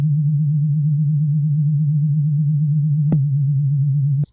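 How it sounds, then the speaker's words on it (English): Steady 808 bass sub synth tone, a pure low sine hum held evenly and loud for about four seconds, with a brief click partway through and an abrupt cutoff at the end. "Oh, sorry, 808 bass sub. Okay, that sounds good."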